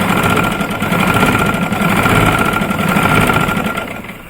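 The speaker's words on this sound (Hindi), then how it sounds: "ये उल्टी साइड से हम सिलाई लगा रहे हैं" A sewing machine stitching a round Irani chadar from the reverse side, a steady, loud, continuous whirring hum with a fast mechanical rhythm that eases slightly toward the end.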